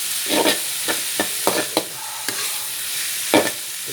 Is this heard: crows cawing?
no